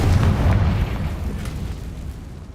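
A Confringo spell explosion in the Hogwarts Legacy video game, a loud, deep rumbling blast that rolls on and slowly fades over a couple of seconds.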